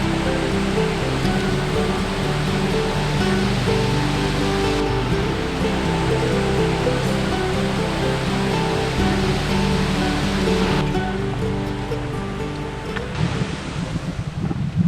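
A river flowing along the trail to Curug Cikawah waterfall near Bogor: a loud, continuous rushing wash of water that stays steady and close throughout, with no talking.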